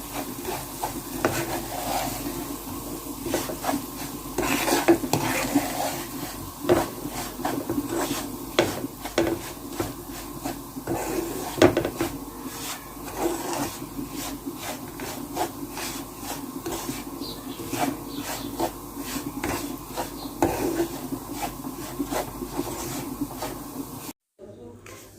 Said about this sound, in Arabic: نبدا نقلب كده لحد ما الدقيق كله يشرب السمنه دي